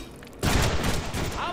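Gunfire in the Deadpool video game, a sudden loud burst of rapid shots erupting after a quiet moment and continuing densely to the end.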